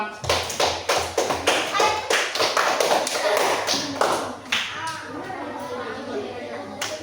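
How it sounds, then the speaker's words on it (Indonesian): Classroom applause from fifth-grade pupils at an elementary school, a burst of loud, uneven claps that thins into scattered taps, with voices and chatter running underneath. "Silakan tepuk tangan untuk kalian semua."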